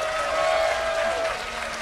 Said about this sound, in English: receive your round of applause from your appreciative fans